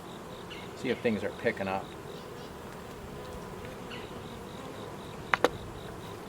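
Honeybees drone steadily in an open hive being worked down toward the brood nest, a soft continuous buzz close by, with brief speech partway through and a couple of sharp knocks near the end.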